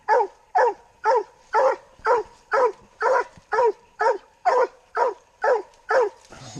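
A coonhound bays at a cedar tree where it has treed, a rapid, even series of loud, ringing barks, about a dozen in steady rhythm, fairly close and clear in the open woods.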